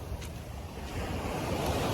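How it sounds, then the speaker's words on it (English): Loud ocean surf crashes continuously on a Miami shore, a broad roaring wash of breaking waves with wind buffeting the microphone. "Let me get a little bit away from the waves because they're loud."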